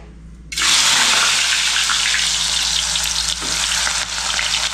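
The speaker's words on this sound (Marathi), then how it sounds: "बटाटे पहिली मी जरा तेलामध्ये फ्राय करून घेते" Peeled, cut potatoes dropped into hot oil burst into a loud, steady sizzle that starts abruptly and keeps hissing close up without a break.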